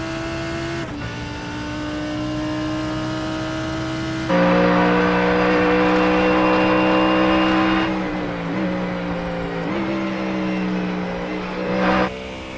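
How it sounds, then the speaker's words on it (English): Race car engine at Sebring during a six-hour endurance race, loud and sustained, rising and falling through sharp downshifts and upshifts. "take a listen to just how loud this thing is, especially on the down and up shifts"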